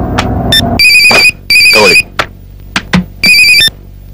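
A telephone rings in loud, close electronic bursts, three long trills separated by short gaps, with brief clicks and voice fragments between them.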